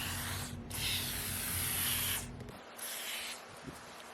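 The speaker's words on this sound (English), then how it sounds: "we're just going to spray it right in the track itself." Dupont silicone lubricant sprays through a straw into a car window track in two close, hissing bursts, the first long and steady, the second shorter, with a faint low hum beneath.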